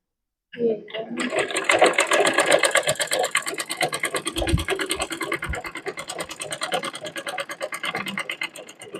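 A sewing machine stitches a double-folded cloth hem, running in a steady rapid mechanical chatter from start to finish after a brief handling sound, close and fairly loud with no talking.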